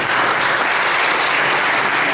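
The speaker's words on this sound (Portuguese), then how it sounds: "Eu acho que essa igreja merece uma linda salva de palmas" A church congregation at a Baptist convention assembly breaks into loud, sustained applause, a thick, even roar of many hands clapping close and full for the whole stretch.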